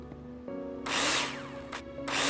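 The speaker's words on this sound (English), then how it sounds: "Take your drill out and screw them in." A power drill in the Builder Simulator game drives screws into plasterboard, with short loud bursts of whirring and a brief pause between them.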